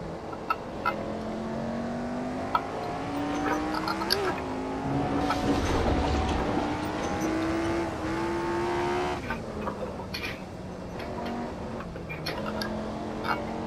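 A race car lapping in Assetto Corsa with traction control off, the engine droning steadily and rising in pitch through the gears, dipping and climbing again around a corner, at moderate level with faint tyre noise.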